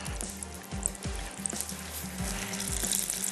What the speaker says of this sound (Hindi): जो रिमेनिंग हैं उनको भी हमने फ्राई कर लेना है, तो मैं अब वो भी डाल देती हूँ उसमें